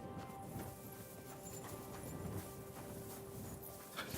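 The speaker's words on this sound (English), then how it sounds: "Yeah, horse is there." Horse hooves in the video game Kingdom Come: Deliverance 2 clip-clop in a steady rhythm at moderate distance over a constant background hum, with no one talking.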